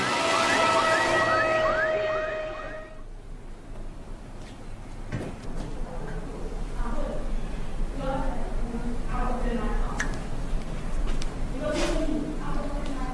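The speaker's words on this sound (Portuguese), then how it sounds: "a ambulância corria para a clínica Santa Eunice em O'Wary" Ambulance siren as the vehicle races to a clinic, a loud wailing tone that cuts off after about three seconds, followed by a narrator speaking over quieter background sound.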